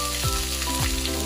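Capsicum, cabbage and paneer pieces fry in two spoons of oil in a kadai, giving a loud, close, dense sizzle that holds steady for about a second with no talking.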